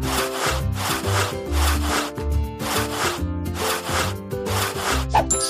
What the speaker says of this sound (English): And now some serious rubbing.